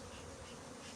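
Honey bees buzz at an open beehive in a dense, continuous drone of many wings, steady and close, with no voices.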